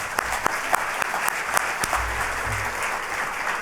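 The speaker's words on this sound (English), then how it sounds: "Now give him a clap." Audience applause fills an opening ceremony hall, a dense steady wash of many hands clapping with sharper individual claps standing out, continuous and fairly loud throughout.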